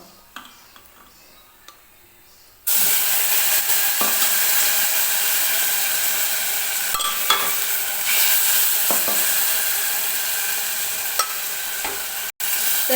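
Plain mutton broth ladled into sizzling masala for a spicy mutton curry: quiet at first, then a sudden loud sizzle that settles into steady frying with stirring scrapes and small clicks. No one speaks.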